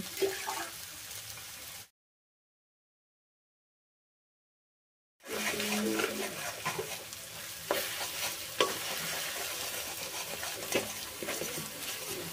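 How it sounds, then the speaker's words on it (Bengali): Beaten egg fries with vegetables in mustard oil, a close sizzle with scraping stir strokes, cut by a stretch of dead silence before the frying resumes louder with bursts of spatter and clinks. "ডিমটা এখন ভালো করে ভেজে নেব।"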